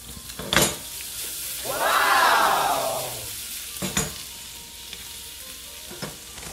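Chopped garlic hits hot sesame oil with a sudden sizzle that swells for about a second and then fades. Sharp utensil clacks come before and after it in a quiet kitchen.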